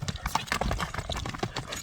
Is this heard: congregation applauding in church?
no